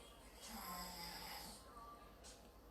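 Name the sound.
man snoring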